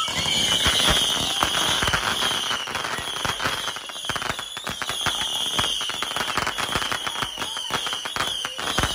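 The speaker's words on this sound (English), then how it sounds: "So we're popping fireworks." Fireworks and firecrackers go off at a Fourth of July celebration, a rapid, continuous barrage of sharp cracks and pops mixed with high whistles, loud and close throughout.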